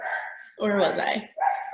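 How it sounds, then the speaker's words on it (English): Dog barking indoors in a home, a few short barks close by, heard alongside someone speaking. "Sorry about the dog, if you hear him."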